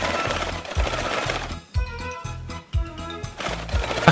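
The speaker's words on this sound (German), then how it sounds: "jetzt kann ich endlich mit dem Nähen beginnen. Nähfuß runter, die erste Stecknadel raus und ab geht's." A domestic sewing machine stitches a trouser hem in a burst of rapid, loud mechanical clatter, pausing briefly twice as the fabric is guided, with no talking.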